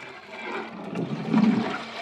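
A cook stirs water in a large biryani pot for Dindigul biryani, giving a continuous sloshing, swirling wash of water that builds slightly toward the end, moderately loud and close, with no talking.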